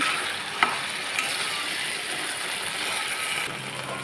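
Taro leaves fry in a hot pan, giving off a steady sizzle broken by a few clinks of a spoon as they are stirred, close and fairly loud with no talking.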